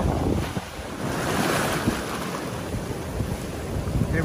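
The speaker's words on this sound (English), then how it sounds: "Look at that sea. Really rough day." Rough surf churns steadily with gusty wind buffeting the microphone, a continuous roar of breaking waves with no voices.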